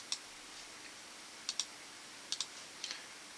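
Computer mouse buttons clicking faintly and close by, in sparse pairs of quick double clicks separated by pauses, with no talking.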